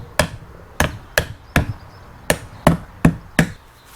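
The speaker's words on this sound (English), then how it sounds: "Then you take your hammer, pound them in." A hammer strikes a wooden pallet planter eight times at a steady, slightly uneven pace, sharp close thwacks on the wood with short decays and no talk.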